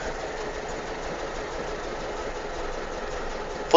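A 1000cc Volkswagen Beetle engine runs steadily, a droning, buzzing hum heard from inside the car with a constant rattly texture and no talking.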